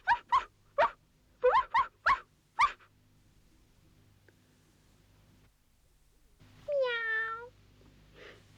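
Cats or kittens in a pet shop give a quick run of about six short, loud meows, then after a quiet stretch one longer, drawn-out meow, with no voices.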